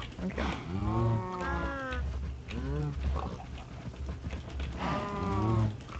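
Cows mooing in the video game Minecraft on a survival-mode farm, several long drawn-out moos in a row with short gaps, loud and close, with a voice talking underneath.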